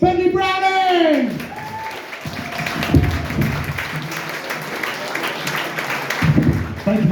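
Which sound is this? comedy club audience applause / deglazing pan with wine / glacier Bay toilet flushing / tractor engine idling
comedy club audience applause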